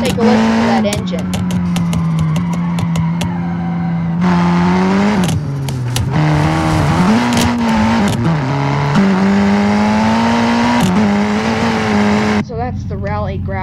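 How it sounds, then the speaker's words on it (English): Cherrier Vivace rally car engine in BeamNG.Drive, revving loudly and steadily with rising and falling pitch through gear changes, a continuous close-up drone lasting until a brief shift in tone near the end. "Take a listen to that engine."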